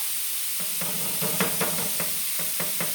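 Steak and peppers for fajitas sauté in a hot pan with a soft steady sizzle, while a wooden spatula scrapes and breaks up the meat in a quick run of repeated strokes.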